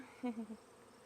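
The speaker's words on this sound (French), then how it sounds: "il y a beaucoup plus d'abeilles qui volent autour" A short, close buzz of honeybees in flight around a hive colony, a few quick pulses over a faint background hum.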